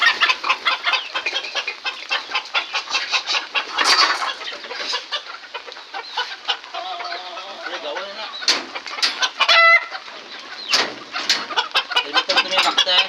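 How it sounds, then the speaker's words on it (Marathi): Free-range village chickens cluck and squawk continuously at a poultry farm in Kokan, a busy layered flock close by with occasional sharper calls and wing flaps, no talking over them. "हे आपले कोंबडे आहेत आणि आपल्या प्युअर गावठी कोंबड्या."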